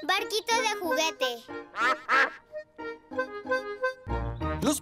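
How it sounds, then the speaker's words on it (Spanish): Cartoon ducks quack on a pond in a Peppa Pig episode, a quick run of bright, nasal quacks mixed with childlike character voices. "Los patos nadan en su estanque."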